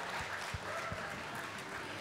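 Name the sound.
audience applause at shearing competition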